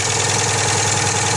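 A revived Citroën 2CV engine idles steadily and close by, a loud, even mechanical chug with a faint uneven tick, suggesting an exhaust leak.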